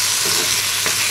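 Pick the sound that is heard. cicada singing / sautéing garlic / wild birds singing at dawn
sautéing garlic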